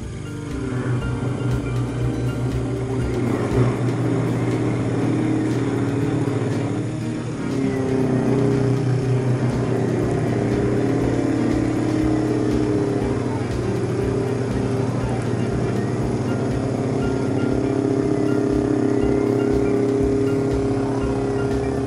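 A Sherline CNC mill makes a heavier cut at 2000 RPM, with a steady loud motor whine and grinding cutter noise that runs continuously with slight shifts in pitch, close by.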